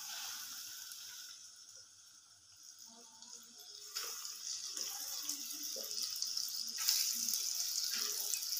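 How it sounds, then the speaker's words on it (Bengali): Cabbage fritters frying in oil in a pan, a steady soft sizzle and hiss that swells louder in the second half, with faint clinks from a utensil and no talking. "বাকি তিনটেও আমি সেম প্রসেসে ভেজে নেব"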